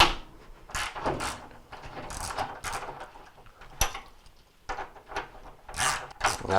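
A hand ratchet loosens half-inch bolts on the bottom counterweight of a Whirlpool washer, with repeated bursts of close, rapid clicking separated by short pauses and a sharp metallic knock near the middle.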